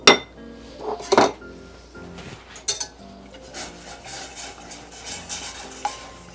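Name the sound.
whisking tomato paste for enchilada sauce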